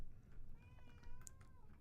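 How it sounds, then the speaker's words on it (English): A cat meows and yowls loudly close by, drawn-out wavering cries over a low background rumble, with no talking. "If you hear the cat, I apologize. She is screaming."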